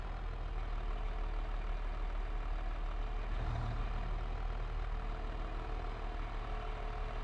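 A Claas tractor engine in a farming simulator game, running at a steady low idle-like drone with a faint rise around the middle and no talk over it.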